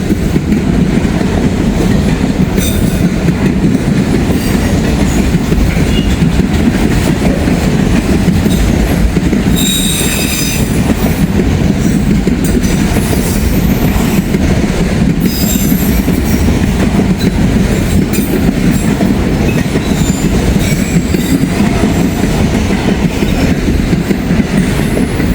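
A freight train pulling two heritage locomotives rolls past, a loud sustained roar of wheels and cars with rhythmic clatter and bursts of high wheel squeal, very close and unbroken throughout.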